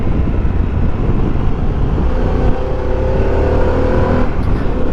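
A Harley-Davidson Pan America 1250 Special motorcycle accelerating on the road, its engine tone climbing steadily beneath heavy, constant wind rush from a rider's perspective, with no voices.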